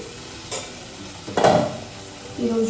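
Okra fry cooking in a stainless steel pan: a steady oily sizzle under a few scraping stirs, one louder mid-way and another near the end, close by with no talking.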